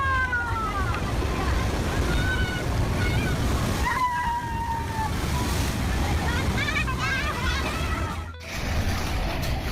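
Strong waves roll on the Hooghly River during the rainy season, a continuous loud wash of surging, sloshing water with wind. Bird-like chirps and whistles come and go over it, and the sound dips briefly near the end.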